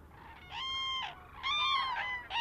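Loud, honking calls of cranes in two bursts, layered harmonic cries overlapping as several large cranes call together over a lagoon, fairly close with a low background hum.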